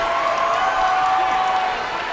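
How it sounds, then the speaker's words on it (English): A championship fight crowd roars after the new super lightweight champion wins, a steady dense wash of cheering and applause that fills the whole moment without letup. "Listen to this crowd."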